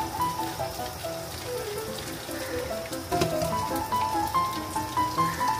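Hilsa fish simmering in a mustard and poppy seed sauce in a covered pan, giving a soft, steady bubbling and sizzle throughout, with faint clinks near the end.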